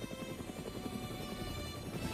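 A helicopter supporting artillery units flies overhead with a steady, fast rotor chop, a dense rhythmic thudding under a constant engine hum, fairly faint and unbroken throughout.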